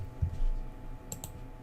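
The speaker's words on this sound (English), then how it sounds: "if I start typing stuff on this line" A couple of crisp key clicks come from typing on a computer keyboard while working through Ruby code, quiet and close against a low background hum.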